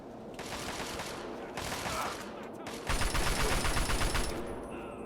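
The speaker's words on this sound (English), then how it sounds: "Artillery shells don't tickle." Artillery shells explode in Fallout 3 as a rapid, crackling barrage in bursts, loud and fairly close, with a short gap and then a heavier second volley.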